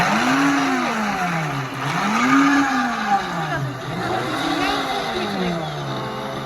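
Soy milk blender with a strong motor whirs loudly in a department store demonstration, its pitch rising and falling in repeated cycles as it grinds, with people talking faintly underneath.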